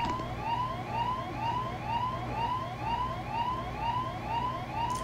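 A wailing emergency siren sweeps up and down in a steady, rapid repeating cycle, moderately loud and on its own, during the Egghead arc of the anime One Piece, episode 1102.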